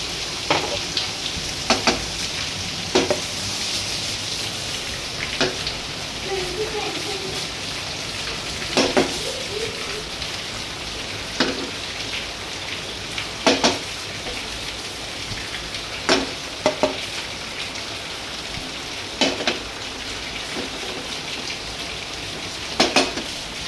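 Vegetable fried rice being stir-fried in a pan, a steady bed of sizzling and frying noise broken by sharp periodic scrapes and clanks of the spatula against the pan, close and fairly loud with no voices.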